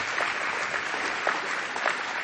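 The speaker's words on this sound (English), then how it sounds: "I think that's the first time we've ever had clapping for these." An indoor audience at a university forum talk claps steadily, a dense, even wash of applause with no voices over it.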